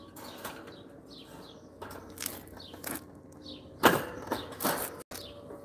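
A young wild sparrow flaps its wings in short, scattered bursts and fails to lift off, with soft rustling outdoors and no voices.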